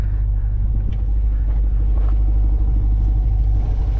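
An old car's engine gives a deep, steady rumble while driving, heard close and continuous with faint knocks and rattles on top and no talking.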